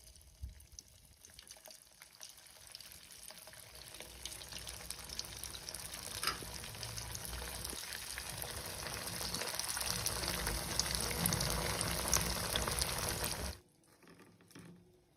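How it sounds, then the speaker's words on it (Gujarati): Oil bubbling and sizzling as sabudana (sago) vadas deep-fry, a continuous frothy crackle that slowly builds in intensity before cutting off abruptly near the end. "આવી રીતના આપણે બધા વડા તળી લેવાના છે"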